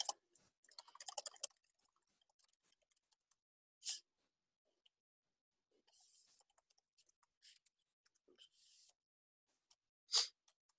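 Someone types search queries on a computer keyboard in irregular bursts of quiet clicks and taps, with several louder isolated key strikes and pauses between runs.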